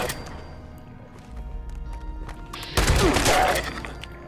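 Gunfire from Fallout 76 in a dim ambient scene, with a sudden loud burst of shots near the end cutting through low background rumble.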